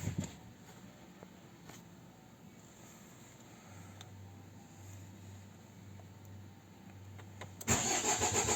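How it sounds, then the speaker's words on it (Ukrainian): A Renault Koleos engine cranks briefly and catches, roaring into a loud idle near the end after a long quiet stretch with faint low hum. "Запускаємо двигун."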